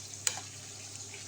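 Fish pieces are stirred into a pot of cooked mung bean stew, giving a faint soft simmering sizzle with one brief sharp splash-like tick near the start.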